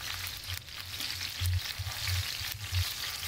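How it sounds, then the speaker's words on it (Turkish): Halved green peppers frying in hot oil, a steady close crackling sizzle with bright spitting bursts and low pulsing bubbling, heard alone without talk. "yeşil biberi ortadan ikiye ya da büyüklüğüne göre kesip onları da ters düz ederek kızarttım"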